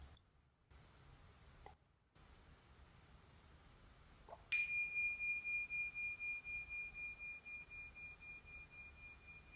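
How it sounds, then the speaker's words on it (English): A tingsha bell is struck once after quiet moments, giving a bright, pure ringing tone that sustains and slowly fades with a gentle wavering pulse. "In a moment, I'll ring the tingsha bells."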